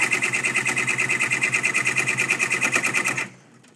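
A sewing machine stitches embroidery on unhooped fabric with a fast, even, mechanical chatter, loud and close, then stops abruptly near the end, leaving quiet.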